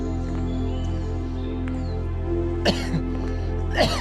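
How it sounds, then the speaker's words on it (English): Two short coughs, a few seconds apart, over a steady low hum outdoors in a forest park garden near a graveyard. "Get my cough now"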